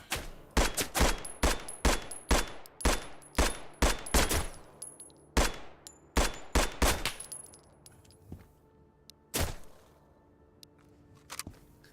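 Gunfire in Road to Vostok, from a KAR and an MP7, cracks out sharply as rapid single shots in a quick rhythm, each with a short echo tail, then thins to a few isolated shots.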